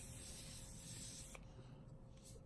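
Morphe makeup setting mist is sprayed over a face in a steady hissing burst lasting over a second, followed by a couple of shorter faint puffs, close and quiet.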